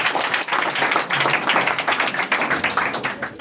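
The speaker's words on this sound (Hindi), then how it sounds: "तालियां।" Audience applause for student performers at an Independence Day and Amrit Mahotsav coaching-class program, a dense burst of many hands clapping steadily and fairly loud, with faint voices mixed in.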